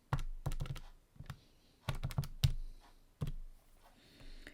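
Calculator buttons are pressed in quick clusters of close, crisp clicks and taps, with short pauses between bursts and no talking.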